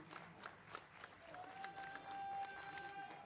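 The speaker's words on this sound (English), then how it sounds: "And the crowd goes wild." A crowd at the BLAST Bounty Malta esports event claps and cheers, heard faint and distant as a rising wash of applause with a few whistles.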